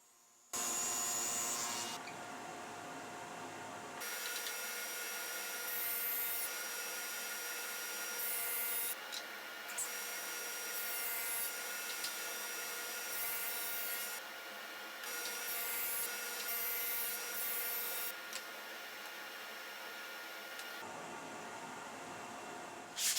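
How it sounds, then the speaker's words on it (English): A power saw cuts dados into wooden pieces held against a fence, whining loudly and steadily close by, with brief dips between passes and no speech. "again cut the dados on each piece, ensuring that the bottom end is against the fence with each cut"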